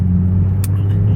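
An Audi B9 S4 being driven, heard from inside the cabin as a steady low engine and road rumble at cruising pace, with a faint brief tick partway through and no talking.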